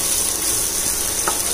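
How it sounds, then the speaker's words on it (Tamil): Onions soften in a pan for a roadside-style salna gravy, giving a dense, steady sizzle with faint scraping, close and even throughout the short stretch. "ஸோ இந்த வெங்காயம் கொஞ்சம் வதங்கட்டும், ரொம்ப ப்ரௌனாலாம் ஆக வேண்டாம்."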